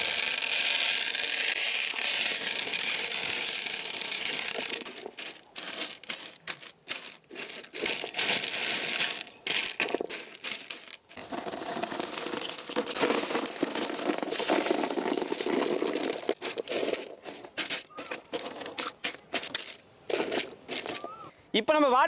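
Aquarium stones are poured out of plastic packets into a garden water fountain made from an old tyre, with rustling packets and clattering, rattling stones coming in intermittent bursts and pauses, close and fairly loud.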